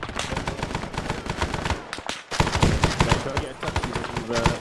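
Heavy gunfire in the military shooter Arma 3, with dense machine-gun bursts and rapid shots that break off briefly and then resume loud and close.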